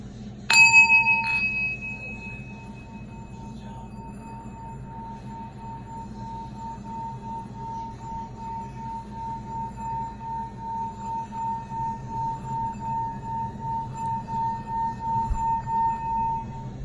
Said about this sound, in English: I use the Tibetan bowl as a meditation, clearing as well